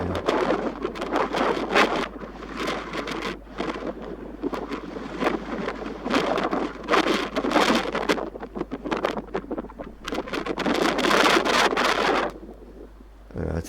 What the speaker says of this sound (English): So it's quite windy up here.